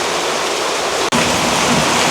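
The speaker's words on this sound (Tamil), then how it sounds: "அடிக்கிற மழைக்குள்ள ஒன்றுமே செய்யலாது." Heavy rain pours down in a rural village, a loud, dense, unbroken roar of water with one very brief dip partway through.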